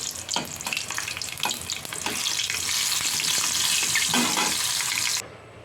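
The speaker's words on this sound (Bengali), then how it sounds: "তারপর হচ্ছে 3টা কাঁচামরিচ। এগুলিকে আমি ভেজে নেব।" Dried red and green chillies frying in hot oil in a wok, a loud bright crackling sizzle that swells and holds steady, with a few scraping stirs early on, close up and alone until it cuts off abruptly.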